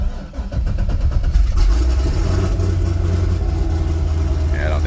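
A Chevy LS7 V8 cranks briefly and fires up, then settles into a loud, deep, steady idle. The car sits raised up off the ground while the engine runs close by, and a voice is faintly present.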